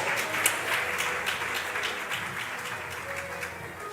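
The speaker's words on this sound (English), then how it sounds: "Please welcome them back to your fold with a resounding round of applause." Audience at a Nigeria gender programme launch gives steady, dense applause, a sustained wash of clapping from a crowd without a break.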